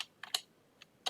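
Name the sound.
typing on a new computer keyboard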